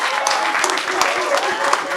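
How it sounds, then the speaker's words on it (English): A press conference crowd gives Shawn Porter a burst of applause after his win over Danny Garcia, producing dense, continuous clapping from many hands, fairly close and steady throughout. "And a round of applause for Showtime Shawn Porter."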